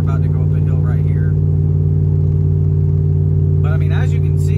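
A cammed Ram 1500 truck towing a boat uphill on a highway, its engine a steady, loud low drone with strong harmonic hum, while someone talks over it in short stretches.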